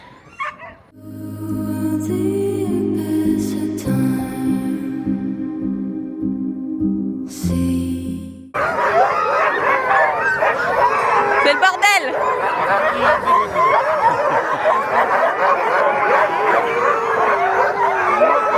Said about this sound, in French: On fait du chien de traîneau!